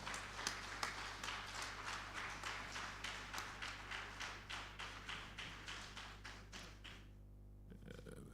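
Audience applause at a national environmental health excellence awards ceremony, a steady run of regular claps or taps at moderate level that stops abruptly near the end, leaving a low hum.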